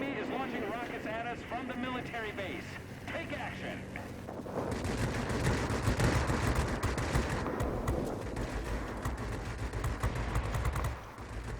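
Rapid bursts of cannon and machine-gun fire from a Spitfire XIV fighter in the World of Warplanes combat game rattle over a droning engine, growing dense and loud midway while someone talks throughout.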